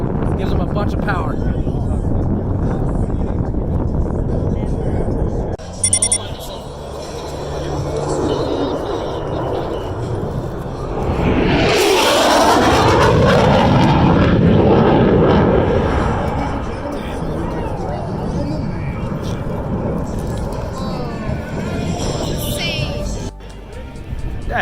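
An F-16 fighter jet passes over an air show, its roar building to a loud, broad rush in the middle and then fading, with steady wind noise throughout and people talking at moments.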